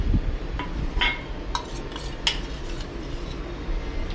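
A metal spoon adds asafoetida to a bowl of spices while making special raita chillies, giving several light, close clinks and taps spaced about half a second apart over a low background hum.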